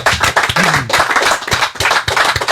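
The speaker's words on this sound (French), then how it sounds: "On applaudit." An audience at a televised talent show claps loudly and close in quick, repeated bursts, with sharp hand claps and brief pauses between the volleys.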